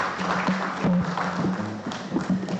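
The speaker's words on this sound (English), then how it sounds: "A round of applause for the Emeritus Professor." An audience applauds an emeritus professor at the 19th Kronti ne Akwamu lecture, a steady spread of claps with a low hum beneath, fairly close and moderately loud for under three seconds.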